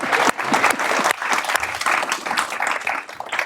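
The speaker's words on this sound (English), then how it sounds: "And let's applaud Scott because he came all the way from Oregon to do this." A live audience breaks into sustained applause at a book event, dense clapping filling the room with a brief dip early on before carrying steadily to the end.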